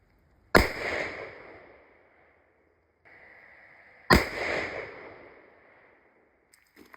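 Two loud rifle shots from a custom-built .300 WSM rifle, several seconds apart, each a sharp crack followed by a long echoing decay outdoors, with a faint click near the end.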